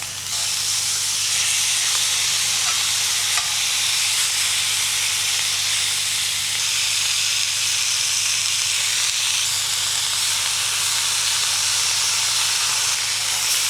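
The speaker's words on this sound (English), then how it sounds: "trying to get some nice and some good sizzle on that fat cap." Steady, loud sizzling hiss of a meat fat cap searing on a hot grill, continuous and close, with no talking.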